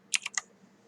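Several quick key presses on a computer keyboard during 3D animation software work, a short cluster of crisp close clicks followed by quiet.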